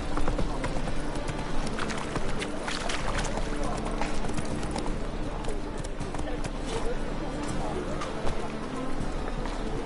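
Roach, the horse in The Witcher 3: Wild Hunt, gallops with steady, busy clip-clop hoofbeats beneath a dense wash of game sound, while a voice talks over it.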